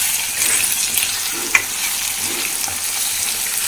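Chicken sizzles in hot oil with clove and cinnamon powder and salt while a spoon stirs the pan, a dense, steady hiss with soft scraping strokes and one small clink, close and loud with no talking.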